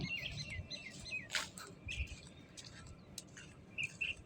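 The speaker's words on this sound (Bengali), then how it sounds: "বিভিন্ন পাখির কোলাহল, ডাক," Several kinds of birds chirp and tweet on a tree-lined riverbank in Savar, a scattered overlapping chorus of short calls, fairly faint over a soft outdoor background.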